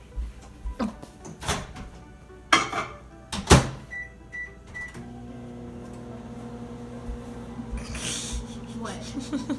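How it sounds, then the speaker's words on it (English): Several clunks and door thuds, then a microwave oven beeps and starts running with a steady low hum and whir. "Now I can microwave them just a second."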